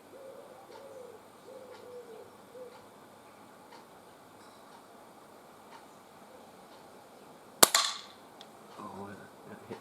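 A single sharp crack near the end as a pellet from a Sparrow spring air pistol strikes a pellet trap at about 12.5 metres, with a brief ringing decay. Quiet outdoor ambience and faint birdsong come before it.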